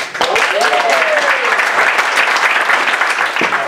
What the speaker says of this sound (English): by a round of applause, who's excited for the holidays?